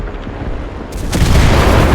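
An explosion in the video game Enlisted, blowing a bunker apart: a rumbling blast that swells into a loud, sustained roar of debris and noise filling the second half.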